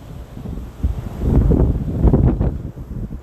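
Wind buffeting a microphone outdoors on a breezy summer day, a low, rumbling roar that swells in the middle and then eases, close and fairly loud, with no voices.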